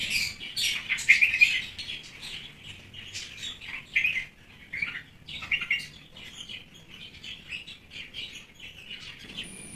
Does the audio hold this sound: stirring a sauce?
no